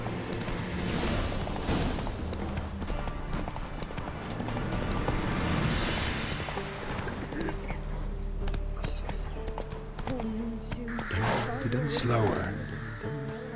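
A horse trots and gallops in The Witcher 3 video game, its hooves clip-clopping in quick rhythm over a busy game soundscape, while voices speak toward the end.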